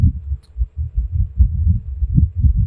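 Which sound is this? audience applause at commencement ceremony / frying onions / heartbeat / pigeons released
heartbeat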